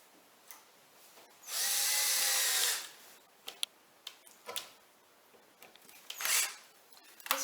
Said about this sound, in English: put the screws in just to the point where they're poking out the other side